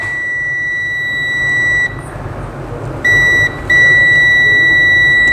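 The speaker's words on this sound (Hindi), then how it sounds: "ये बीप आ रहा है इसमें, तो बीप आने का मतलब इतना ट्रैक ठीक है।" Multimeter continuity beeps while probing the display light circuit of a Samsung A11 phone: loud steady high-pitched tones, one long beep breaking off, then two more separated by short gaps, with no speech.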